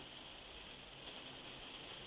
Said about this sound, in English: And can you hear the rain?